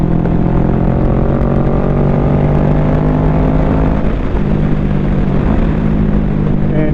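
A Kawasaki Ninja 650 motorcycle engine hums steadily and loudly while riding, its drone sliding through pitch shifts as it revs and changes gear, with constant wind rush.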